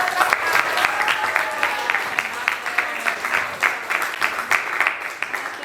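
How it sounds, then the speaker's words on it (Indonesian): Classroom of students giving applause, a dense, even patter of many small hands clapping continuously at close range, fairly loud and steady for several seconds. "Kita kasih tepuk tangan."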